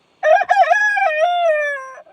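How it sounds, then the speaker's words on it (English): A retired breeding rooster, about 10 to 12 years old, crows one long loud cock-a-doodle-doo close by, its drawn-out final note trailing off, with no talk over it. "This is my breeding rooster, who's now retired."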